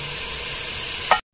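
Chicken fries in hot ghee in a pan, giving a loud, steady close sizzle with a brief stir near the end before it cuts out.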